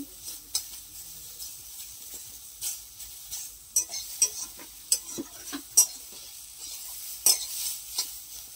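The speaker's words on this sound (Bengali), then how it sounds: "দেখো শাকটাও ভাজা ভাজা হয়ে এসছে" Water spinach and onion stir-fry in a pan with a quiet sizzle, broken by frequent close scraping and clacking strokes of a spatula in an uneven rhythm, with no one talking.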